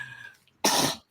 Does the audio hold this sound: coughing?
yes